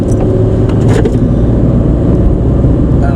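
Three-cylinder diesel car cruising, a loud steady low rumble of engine and road noise from inside the cabin, with a few brief higher clicks early on.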